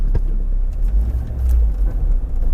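A Mk2 VW Golf Rallye engine idles close by with a steady deep rumble and slight unevenness, with brief clicks and shifts over the running engine.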